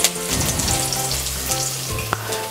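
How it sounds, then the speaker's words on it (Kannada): Mustard seeds crackling and sizzling in hot oil in a pan, with crushed garlic about to join, a loud close continuous fry with sharp pops. "ಎಣ್ಣೆ ಕಾದ್ಮೇಲೆ 1/2 ಚಮಚ ಸಾಸಿವೆ. ಸಾಸಿವೆ ಸಿರಿಯೋವಾಗ ಸ್ವಲ್ಪ ಹಿಂಗೆ ಹಾಕೋತಾ ಇದ್ದೀನಿ."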